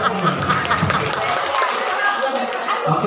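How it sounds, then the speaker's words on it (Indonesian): A class of students claps their hands together in a dense, steady burst lasting about three seconds, with overlapping voices and chatter from the room mixed in. "tepuk tangan dulu semua"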